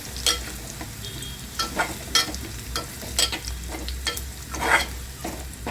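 Methi bhaji ingredients with turmeric roast in a hot pan, giving a soft steady sizzle broken by repeated scraping clicks of a spatula stirring, close up and with no voices.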